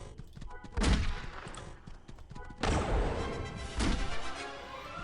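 Pistol fire from the Star Wars Galaxies video game, with several loud, sharp shot bursts, three standing out clearly, over a busy, noisy game soundscape.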